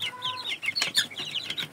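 Chickens at a coop, including Red Bourbon and Indio birds, cluck close to the mic in a busy run of short, overlapping calls with a higher squawk or two.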